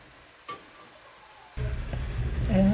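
Thoran curry stirred in a frying pan: a faint clink, then a steady sizzle and scraping that grows louder toward the end.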